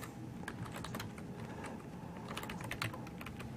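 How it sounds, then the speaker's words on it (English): Close-up typing on a computer keyboard while entering a command into a terminal, a quick irregular run of light key clicks with a couple of faster bursts, steady and moderately quiet with no talking. "So we're going to type node agent VSO agent"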